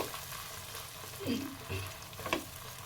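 Hilsa in a mustard and coconut milk gravy is stirred gently with a spoon, giving a few soft, close scrapes and light bubbling over a quiet, steady background.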